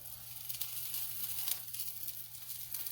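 Salmon sears in a hot pan, crisping on the bottom: a steady, soft hiss and crackle of sizzling oil with faint pops, heard up close and alone with a low background hum.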